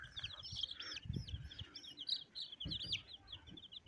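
Chickens and a rooster chirp and cluck repeatedly in quick, overlapping calls, fairly faint, with soft shuffling underneath.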